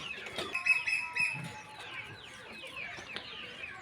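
Chickens cluck and squawk inside a netted shed, several birds calling close by in short irregular bursts with a few sharp cries and some wing flapping, no talking.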